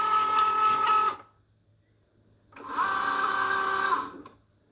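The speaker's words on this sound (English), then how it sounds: "for the Cricut Joy, we're just going to put it underneath those rollers and it's going to grab it" A Cricut Joy cutting machine feeds a Smart stencil sheet under its rollers, making two close whirring motor bursts of about a second each, separated by a short pause, with no talk.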